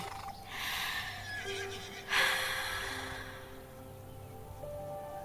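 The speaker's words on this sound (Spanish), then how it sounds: "Ese momento en que te acercas a un caballo, lo acaricias y..." A horse whinnies loudly after being approached and petted, a long quavering neigh with a sharp breathy peak midway, alone with no talk.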